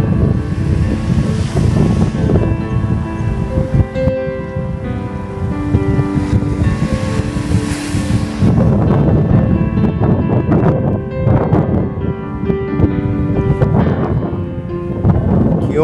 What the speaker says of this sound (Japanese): 風はオフショアしっかり吹いてます。